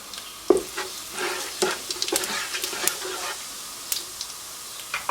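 Cumin seeds dropped into hot oil left over from frying onions, sizzling steadily with scattered crackles and pops and a few stirring clinks, close up, with no talking.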